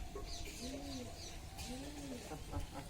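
A pigeon on a rooftop coos softly in two drawn-out, rising-falling calls, fairly faint against steady background noise, with a few sharp clicks nearby.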